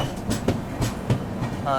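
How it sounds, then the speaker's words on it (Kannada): The Rayalaseema Express rolls past near Tirupati station, its wheels giving a few close, rhythmic clacks over the rails. "ರಾಯಲಸೀಮಾ ಎಕ್ಸ್ಪ್ರೆಸ್ ನೋಡ್ರಿ ಇದು."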